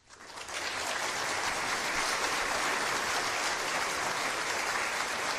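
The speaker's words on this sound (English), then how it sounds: "And I hear the applause coming." Applause swells up quickly and holds as a dense, even wash of clapping from a large crowd, with no voices over it.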